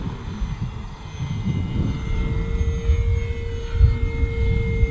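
An E-flite RV-7 1.1m radio-controlled model airplane flies overhead with a steady whining electric motor and a droning propeller, moderately loud with a slight rise and fall as it passes.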